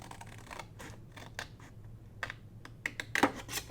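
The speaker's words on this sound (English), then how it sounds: "We're going to cut up on this line right here." Scissors cut along a line on a sheet of paper, making a series of close, crisp snips with small clicks that grow sharper toward the end, with no talking.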